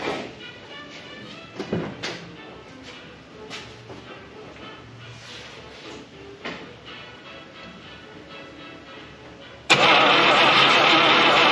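A rebuilt Buick 364 V8 cranks with uneven bursts and turns over, then catches and roars into a loud, steady run near the end, with talk around the cranking.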